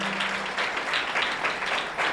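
A church congregation claps in steady, dense applause, moderately close, continuing throughout the short stretch with no talk over it.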